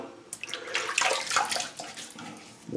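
Water splashes in cupped hands and onto a face being wetted before a razor shave, a few close bursts of sloshing and dripping in quick succession, with no voices.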